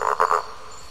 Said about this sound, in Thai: นี่เสียงกบ